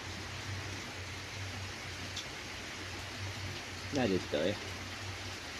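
Steady rain hisses as a broad, even wash over a low hum, with a person speaking briefly near the end.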